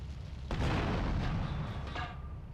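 Explosion in GTA Vice City, a single sudden heavy boom that rumbles on for about two seconds before fading into a steady background hum.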